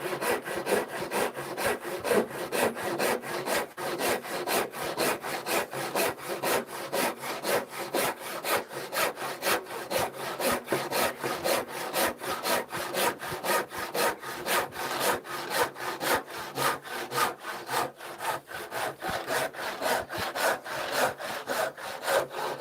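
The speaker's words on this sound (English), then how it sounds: "That's an old saw, that is. I've refurbished it. Obviously sharpened it." An old, refurbished and freshly sharpened hand saw cuts wood in a workshop, with steady, fast back-and-forth rasping strokes that continue evenly and close up, with no talking.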